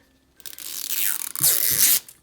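Plastic packaging of a LOL Surprise Winter Disco Glitter Globe toy is torn open in two quick ripping pulls, crisp and close, with a brief pause between them.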